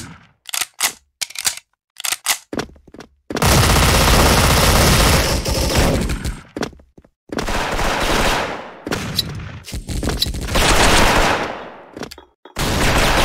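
Bursts of automatic gunfire from the BOLT DUAL MP9 dual submachine guns in the Special Force shooter game: a few short, sharp volleys first, then long, loud sustained sprays broken by brief pauses, with no talking.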